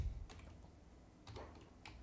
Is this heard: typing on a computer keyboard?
yes